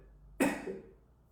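A single close, sharp cough bursts out from one person and trails off over about half a second, with no talk around it.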